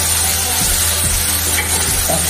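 Vegetables sizzle and fry in a pan with turmeric and salt while being stirred, a steady close hiss with a few soft scraping stir strokes and no talking.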